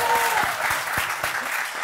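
A theatre audience applauds in a dense, sustained patter, with several sharper individual claps standing out and a faint voice briefly over it.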